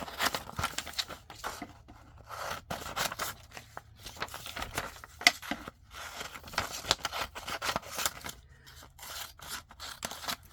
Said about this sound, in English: let's just cut this out quickly